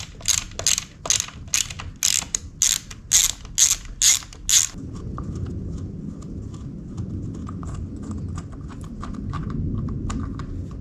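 A ratchet wrench clicks in about a dozen quick bursts while loosening the intake manifold on a 1974 Yamaha Enduro motorcycle, close and sharp, then gives way to quieter rustling and light metallic handling.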